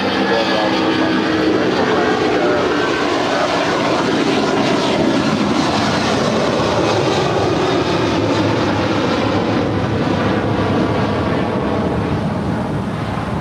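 A jet airliner departs runway 25 left at LAX, its engines a loud, sustained roar that swells and rumbles steadily across the whole stretch, heard from nearby with wind buffeting the microphone.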